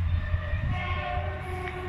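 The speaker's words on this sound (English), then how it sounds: "as you can hear the trains going by" A train rumbling past fishing ponds in Somerset, a low heavy roll with steady tonal wheel and engine hum, continuous and fairly loud.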